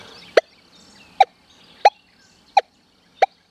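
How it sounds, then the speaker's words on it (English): Five short, sharp electronic beeps at a steady rhythm from a metal detector set to All-Terrain General mode, each a quick two-tone blip against near silence, signalling a buried nickel. "You hear that two-way signal on that nickel down there?"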